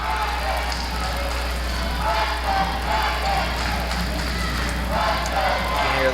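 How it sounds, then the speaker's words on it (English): A boys' high school basketball crowd cheers and roars in a gym during a close game, a dense, steady wash of noise over a constant low hum, with a commentator's voice faintly under it. "You can hear the crowd getting really hype right now."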